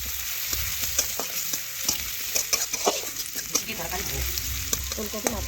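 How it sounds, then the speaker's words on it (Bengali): Chopped onions fry in oil in a home kitchen pan for a Bengali lunch dish, a steady close sizzle broken by repeated sharp clicks and scrapes of stirring, with no talking. "পেঁয়াজগুলো দিয়ে দিলাম। এখন পেঁয়াজ একটু লাল লাল করে ভেজে নেব।"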